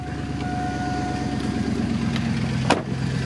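A Chevy car engine runs at a steady, close idle with a rough, rhythmic exhaust pulse and a brief clunk near the end; no voices are heard.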